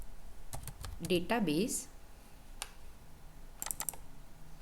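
A computer keyboard being typed on while writing an SQL command to create a database, with short bursts of quick clicks around someone talking over them.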